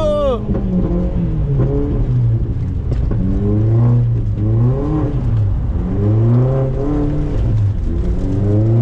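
An Audi S3 drifts on an icy track with its engine revving hard, the pitch climbing and falling in repeated swells as the car slides sideways. Loud and close, with voices talking over it.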